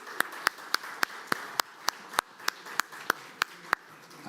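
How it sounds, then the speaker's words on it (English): Slow, evenly spaced single claps from a conference audience, about fourteen sharp hand claps in a steady rhythm at close range over a quiet room. "This applause is for you."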